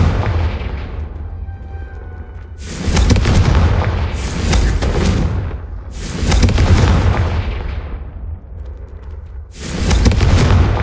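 Four heavy, booming Confringo spell explosions from the video game Hogwarts Legacy, each a loud broadband blast that swells and then fades, with short gaps between the blasts.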